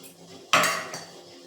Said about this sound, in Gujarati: તેલ એડ કરી અને બરાબર મિક્સ કરી લઈશું